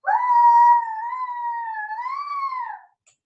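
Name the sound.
little owl howling, story sound effect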